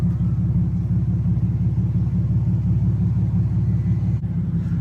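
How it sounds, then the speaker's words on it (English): A Lexus GS300 (JZS147) idles steadily as it warms up after sitting unused, its engine giving off a close, continuous low rumble with an even pulsing throb and no revving. "I'm just letting the car warm up"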